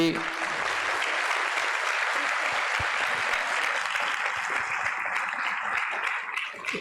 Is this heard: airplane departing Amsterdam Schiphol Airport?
no